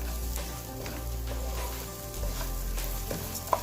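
Rice, onions and garlic frying in a pan for Mexican rice, a steady moderate sizzle with faint scraping from stirring and one small clink near the end.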